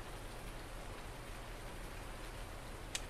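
Steady rain falls in the video game Farming Simulator 19, a soft even hiss of drops with one brief sharper tap near the end.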